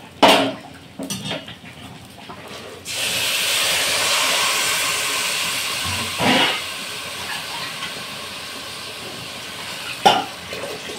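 Water poured into a cooking pot of rice and sugar for beresta polao, a steady hissing pour running several seconds, with brief clinks of the pot and utensils before and after.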